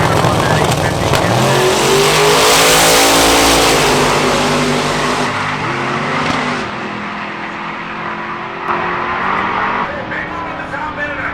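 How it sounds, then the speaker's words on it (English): Hot rod drag racing cars roar down the strip at Hot Rod Drag Week 2024, a loud engine wail rising in pitch and then fading into the distance, with a voice speaking over the noise. "We're gonna see if we can catch some of the faster cars run this morning"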